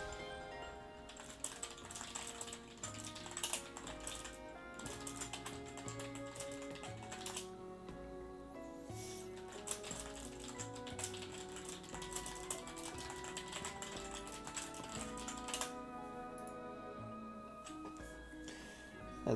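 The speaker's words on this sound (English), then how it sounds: "And I have a mechanical keyboard" Someone types fast on a mechanical keyboard, producing a dense, rapid clatter of key clicks in uneven bursts. It sounds close but fairly quiet, with brief pauses between runs and no voices.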